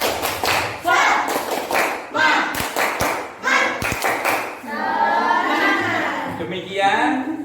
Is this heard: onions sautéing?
no